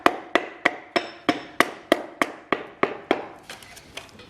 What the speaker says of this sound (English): you're trying to hammer the piston in when it's not even located